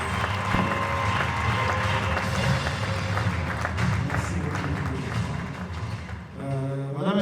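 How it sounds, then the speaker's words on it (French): A gala audience greets an artist with loud, steady applause and cheering, a dense crowd roar that holds throughout before easing slightly near the end. "Je vais entendre des acclamations pour accueillir l'artiste"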